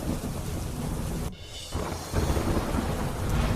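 Monsoon rain pours steadily in Gujarat amid strong wind, with deep rolling thunder rumbling beneath the dense, loud hiss of the downpour, dipping briefly before swelling again.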